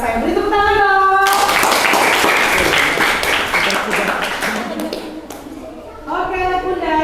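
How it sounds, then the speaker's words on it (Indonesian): Classroom applause for a student group, a burst of quick hand clapping from children that fades out, framed by a teacher talking before and after. "Beri tepuk tangan dong"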